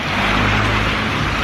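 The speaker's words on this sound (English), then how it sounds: "first is not get hit by this car" A car passing close on a city street, a loud, steady broadband rush of tire and engine noise with a low hum beneath, filling the whole moment with no voices.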